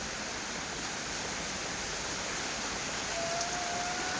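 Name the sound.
heavy rain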